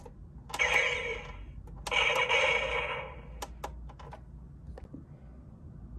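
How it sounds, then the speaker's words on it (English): A Star Wars Toybox Razor Crest toy plays electronic missile-launch effects when its buttons are pressed: two short hissing blasts, the second longer, mixed with light plastic button clicks and taps, close and fairly quiet. "when you press them, it'll make some fun launching sounds"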